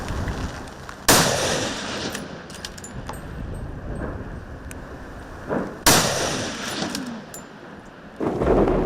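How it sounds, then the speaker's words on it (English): Gunfire during a wild boar hunt at dusk on a ridge, heard as three loud, sharp shots spaced several seconds apart, each echoing and rolling off across open country over a steady outdoor background with no talk. "Despite continuous firing, the long distances made it hard to land accurate shots."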